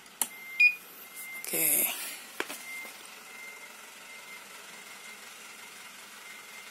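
A heat press for T-shirts is switched on, giving short electronic beeps and a swept tone, then settling into a faint steady hum. The press has a fault and will not heat up. A voice briefly speaks over it.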